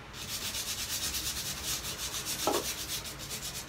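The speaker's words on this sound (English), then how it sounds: "it's easy for the sandpaper to rub them away without rubbing the rest away" Sandpaper scrubs back and forth over lumpy textured paint in a quick even rhythm of soft rasping strokes, close and moderately loud, with no voices.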